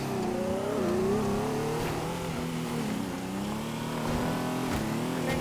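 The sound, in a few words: race car accelerating in a video game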